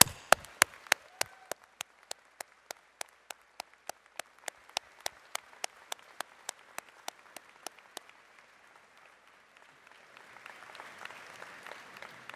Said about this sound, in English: Graduates, please join with me in applauding the support that they have given you over the years.